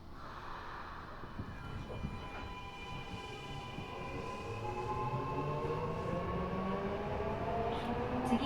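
An Eidan 6000 series subway train, fitted with a VF inverter taken from a 7000 series unit and known for abnormal noise, pulls away and runs, its motor whine climbing steadily in pitch over a steady rumble of wheels and car body.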